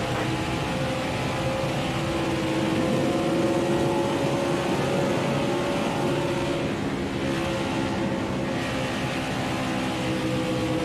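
Race car engines in the NASCAR Heat 5 video game at Las Vegas, a loud, continuous high-revving drone with steady tonal whine, cars running close in a pack.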